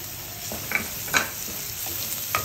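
Sliced onions fry in oil with a bright, crackling sizzle, broken by several quick stirring scrapes and taps of a utensil against the pan.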